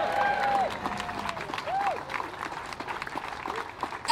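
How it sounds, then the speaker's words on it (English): An audience at a voting-reform rally applauds and cheers, steady clapping with scattered whoops and whistle-like calls over it, tapering slightly toward the end. "I think you should give yourselves a cheer"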